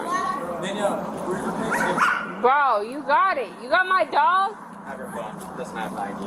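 A small dog yips and whimpers in a rising, repeated run of four or five whiny cries amid a noisy roadside traffic stop, with people talking over and around it.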